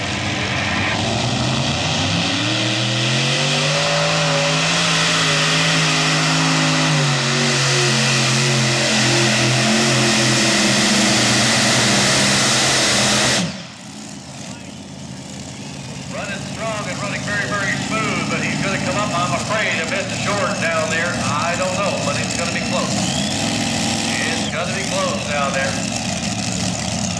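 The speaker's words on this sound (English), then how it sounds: "that tractor when they were running full throttle." A tractor engine runs at full throttle during a truck and tractor pull, a loud, sustained roar with rising pitch for about half the time, then cutting to a rougher, lower crowd-and-engine din.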